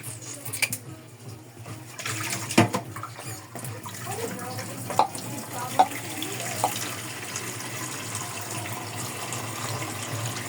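Water runs steadily from a kitchen tap during cooking, a continuous hiss with a few faint clinks and knocks over it, fairly quiet throughout.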